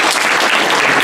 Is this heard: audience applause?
yes